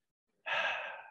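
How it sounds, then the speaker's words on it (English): A person exhales slowly during a guided breathing exercise, one soft, airy breath out beginning midway and tapering off, close and quiet with no talking. "And exhale."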